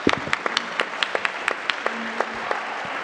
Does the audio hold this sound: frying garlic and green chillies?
no